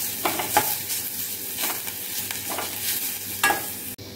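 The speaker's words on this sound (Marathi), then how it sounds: "आता आपल्याला बटाट्याचा किस घालायचा आहे।" Grated raw potato fries in a pan, a soft steady sizzle broken by several sharp scrapes and clinks of stirring, with no voices.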